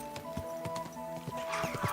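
Clopping horse hooves in an uneven trotting rhythm in the video game Kingdom Come: Deliverance II, with a short whinny near the end, close and moderately loud over a steady background hum.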